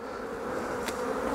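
Honey bees buzz as they are tapped off a hive's crown board, a faint steady drone close by with a soft tap near the end, no talking.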